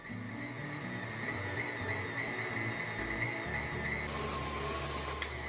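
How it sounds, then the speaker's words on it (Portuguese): An electric mixer runs steadily at low speed, beating royal icing for piping flowers, giving a continuous motor whine with a steady hum that grows slightly louder and brighter near the end. "Agora eu vou bater na velocidade baixa por 10 minutinhos aproximadamente e vou mostrando para vocês."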